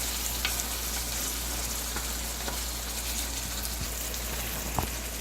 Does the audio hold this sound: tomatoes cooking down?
yes